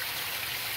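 Underground groundwater flowing into a sump pump pit after heavy rain, a steady broad rushing and trickling wash that stays even and fairly loud throughout, with no voices.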